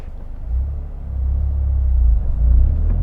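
A 2023 Toyota GR Corolla hot hatch with a manual gearbox drives through the gears, a steady low engine rumble and road drone building as it accelerates, heard from inside the cabin with no talking.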